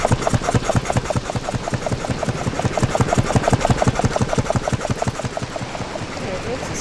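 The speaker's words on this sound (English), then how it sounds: "it makes a strange pump sounding noise" Pump mechanism in the Stoneship Age of the video game Myst, a rapid, steady mechanical thumping in regular pulses, loud and close, running for several seconds before easing into a softer hum at the end.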